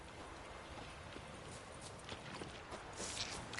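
Roach the horse's hooves clop in The Witcher 3, a steady stream of muffled steps over a constant noisy wash, growing slightly louder toward the end.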